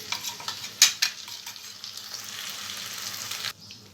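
Ground mint paste is stirred and fried in oil, a soft hiss with two sharp utensil taps near the start, then a steady sizzle that cuts off abruptly near the end.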